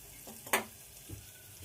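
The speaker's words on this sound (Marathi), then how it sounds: "त्याला थोडंसं परतून घेऊ आपण" Khichdi ingredients, tomato among them, sauté and stir in a pan, giving a soft sizzle with a sharper scrape of the spoon and a fainter stir shortly after, with no one talking.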